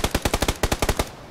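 Rapid automatic gunfire from a Battlegrounds (PUBG) match, about a dozen sharp, evenly spaced shots in a quick burst, loud and close with no talk over it.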